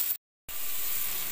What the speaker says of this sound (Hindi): इसे मैं तकरीबन 2 से 3 मिनट तक इसे ऐसे ही भूनूंगा